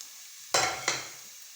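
Salt, dried coriander, chili and turmeric are mixed into food in a pan, heard as two short, close scraping stirs over a quiet background.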